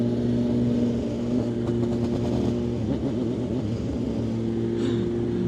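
A Kawasaki Z H2 motorcycle engine idling with a loud, steady, close rumble, a faint rise in revs partway through, and no talk.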